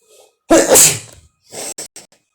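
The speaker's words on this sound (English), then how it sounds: "Sorry for sneeze." A single sharp, loud sneeze bursts out close to the microphone after a faint intake, followed by a few short sniffles or breathy sounds.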